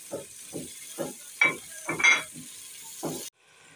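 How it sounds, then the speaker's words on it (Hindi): Ridge gourd masala with tomatoes and green chillies fries in a pan. Seven or eight rhythmic spatula strokes scrape and stir over a soft, close sizzle before it cuts off abruptly. "अब हम इसे अच्छी तरह से भून लेंगे 8 से 10 मिनट तक"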